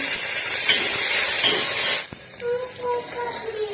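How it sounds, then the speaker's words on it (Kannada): Crushed garlic frying in oil gives a loud, steady sizzling hiss for about two seconds, then drops to a quieter sizzle with faint scattered tones. "ಜಜ್ಜಿಟ್ಟಿರುವಂತಹ ಬೆಳ್ಳುಳ್ಳಿ ಬೆಳ್ಳುಳ್ಳಿ ಚೆನ್ನಾಗಿ ಎಣ್ಣೆ ಎಣ್ಣೆಯಲ್ಲಿ ಫ್ರೈ ಆಗಬೇಕು"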